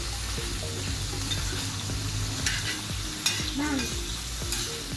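Breakfast sausages sizzle steadily in a hot pan, a dense continuous frying hiss broken by occasional clinks and scrapes as they are turned; a brief voice is heard once.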